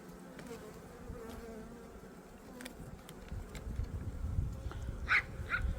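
Honeybees buzz faintly around an opened spring beehive with few bees on the frames, a low steady drone with a couple of brief louder passes near the end.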